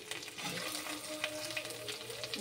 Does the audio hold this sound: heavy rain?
no